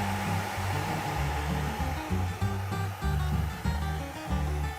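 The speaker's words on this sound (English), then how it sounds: "that's the fan right here. It's actually pretty loud." 3D printer cooling fan running loudly close by, a steady airy whoosh with a pulsing, fluttering low hum under it.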